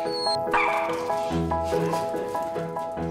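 An Andalusian bodeguero terrier barks and yips several times in quick succession over a musical backing, fairly loud and close.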